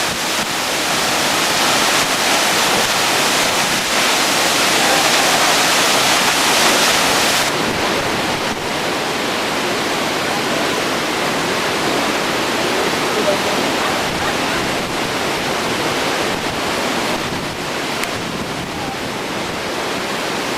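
Victoria Falls in Dominica pours with a loud, steady roar of falling water that fills the whole stretch, easing slightly after the first few seconds but staying constant and near.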